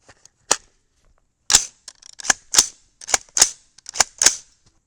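A 300 BLK rifle with a 10.3-inch Hanson Premium barrel fires subsonic 220-grain Match King rounds loaded with Winchester 296, giving sharp suppressed-sounding cracks, one single shot then a rapid cluster of several, with mechanical clicks between.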